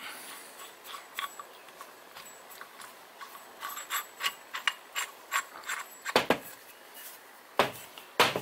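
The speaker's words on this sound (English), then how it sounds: "we can put the bolt in there, tighten that up" A ratchet wrench tightening a bolt during restoration of a Flanders 20 motor's white-metal bearing, giving quick series of small metallic clicks in bursts with a few louder knocks, close and alone.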